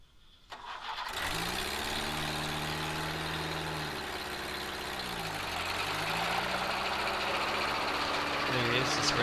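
Small homemade portable sawmill engine starts up, then revs steadily with its pitch rising and falling, loud and close throughout, with a brief dip and a final rise near the end.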